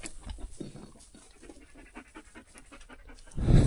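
A hunting dog panting steadily in quick rhythmic breaths, close by, out on a ride through rough country, with a louder rustle or gust near the end.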